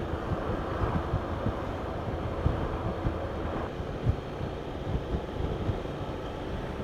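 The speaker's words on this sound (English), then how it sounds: "So there's a little bit of wind, but not much." Steady wind rush buffets the microphone while riding a Honda NC750X DCT motorcycle, a continuous low rumbling roar with small gusts and no talking.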